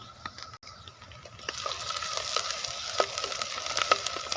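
Onion frying in a pan with spices such as bay leaf, cinnamon, cloves, pepper and ginger-garlic paste gives a close sizzle that swells louder partway through, dotted with small stirring clicks and ticks.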